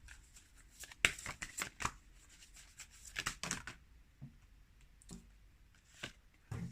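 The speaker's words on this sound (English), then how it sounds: "let's pull some tarot" Tarot cards are shuffled near at hand in irregular bursts of snapping, riffling and rubbing, separated by brief quiet gaps, with no voice over them.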